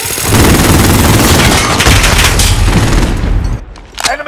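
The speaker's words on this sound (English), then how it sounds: "Enemy sentry gun active." Sustained automatic gunfire from an enemy sentry gun in Call of Duty: Modern Warfare, a loud, dense stream of rapid shots with booming impacts that runs for several seconds before breaking off into a few scattered bursts.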